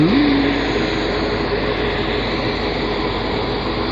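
A WAP 7 electric locomotive train sounds as a loud, steady, broadband rumble and roar heard close up, continuous throughout with a brief rising tone at the start.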